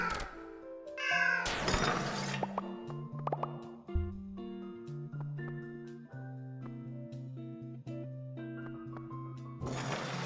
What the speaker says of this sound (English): Biddy, do you want to see the meow gun?